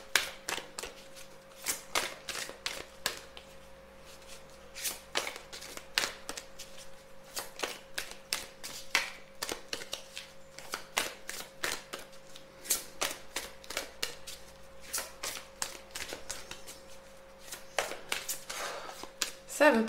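Tarot cards being shuffled by hand to draw a third card, heard up close as steady bursts of crisp riffling and flicking slaps, fairly quiet, with a faint constant tone in the background.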